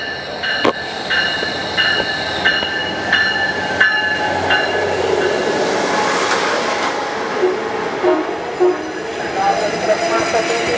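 Passenger train passing Santa Susana Depot in Simi Valley, a loud continuous rumble of rolling cars with repeated rhythmic clunks and metallic squeal for about ten seconds, with announcements or voices faintly mixed in.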